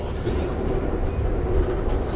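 An Amtrak passenger train on the Chicago to New Orleans route runs steadily on the rails past a station stop in Hazlehurst, giving a continuous loud rumble with faint wheel clatter and no talk.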